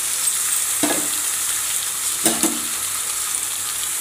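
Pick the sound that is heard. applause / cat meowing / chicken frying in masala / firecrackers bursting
chicken frying in masala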